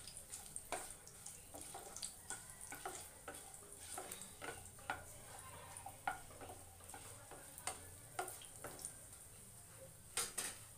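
Cumin seeds and garlic cloves sizzling and crackling in a hot pan, with irregular sharp pops and stirring scrapes over a steady low fry, moderately close.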